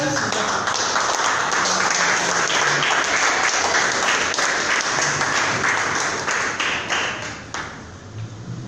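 A church congregation claps together in a steady, crowded burst of applause during a sermon, holding strong before thinning out and fading at the close.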